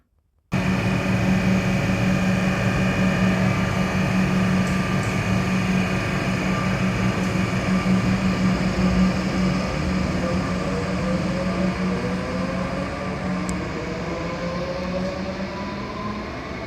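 A Melbourne suburban train on the Pakenham and Cranbourne lines rolls steadily into Westall Station, its loud motor hum and drone sliding gradually lower in pitch as it slows, with no voices.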